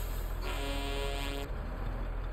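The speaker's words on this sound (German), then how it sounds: "Aber eine männliche Hupe ist es." A truck's horn in the video game SnowRunner sounds one steady, loud toot of about a second over continuous engine rumble, with no talking.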